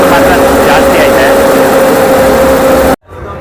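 A sugarcane harvesting machine shown among modern farm equipment at the Suttur fair, its engine louder than a tractor's, gives a loud, steady, close droning hum with a constant tone that cuts off abruptly near the end.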